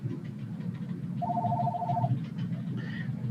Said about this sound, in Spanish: aquí está el teléfono otra vez